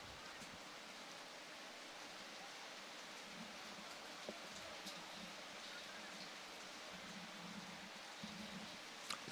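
Steady hiss of rain falling on a heavily grassed football pitch during a Haiti versus Martinique match, a constant even wash of noise with faint distant crowd murmur beneath.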